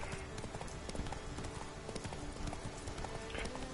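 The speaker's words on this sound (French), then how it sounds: "On va se faire de la marche à poney." Pony hooves clip-clop steadily at a riding pace in The Witcher 3, a continuous close rhythm of hoof strikes with faint background game ambience.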